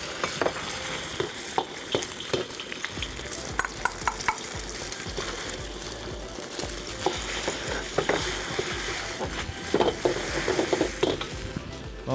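An egg fries in hot oil in a pan for Chinese fried rice, a dense loud continuous sizzle with scattered scraping and clinking of a utensil against the pan throughout.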